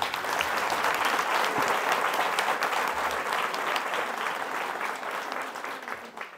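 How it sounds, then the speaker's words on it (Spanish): A congregation applauds strongly at the patron saint festival of San Francisco de Asís in Teloloapan, Mexico, a dense, sustained roar of clapping that holds steady and then tapers at the close. "Fuerte el aplauso."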